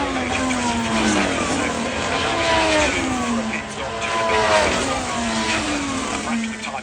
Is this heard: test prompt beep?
no